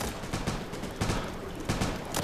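Pistol fire in the World War Polygon shooter game, a rapid volley of sharp shots at a steady clip with several stronger reports about half a second apart, fairly close and alone with no talking.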